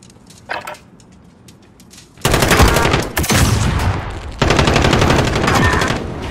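Rapid automatic gunfire from the video game Modern Warfare: after a quiet stretch with a brief crack, loud sustained bursts of shots erupt and continue with a short break, dense and close.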